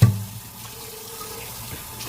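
Running tap water splashes steadily into a kitchen sink while dishes are washed with dish soap, a soft continuous rush that starts with a brief louder clunk.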